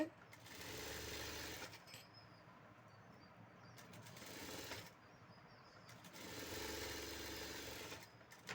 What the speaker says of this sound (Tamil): ½ இன்ச்சுக்கு தையல் போட்டு எடுத்துக்கிறேன்